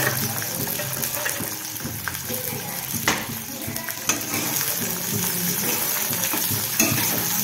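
Onion tossed into hot oil with fried green chillies and peanuts for rava upma, a steady sizzle with stirring scrapes and occasional clinks of a spoon against the pan.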